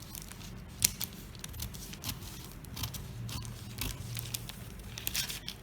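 Scissors snipping through a paper sleeve pattern for a child's shirt, a close series of crisp cuts and rustling paper, fairly quiet with no talk.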